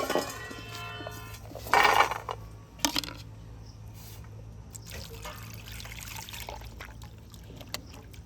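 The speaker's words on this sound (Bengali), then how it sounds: "এবার একটা পাত্রের মধ্যে দিয়ে ভালো করে ধুয়ে নেব" Peeled jackfruit seeds are washed in a pot of water, with close sloshing, trickling and knocking splashes in uneven bursts, loudest early on, then softer rinsing swirls.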